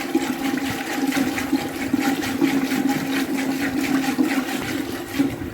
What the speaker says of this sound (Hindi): एक जग भर के इसमें पानी का डाल दूँगी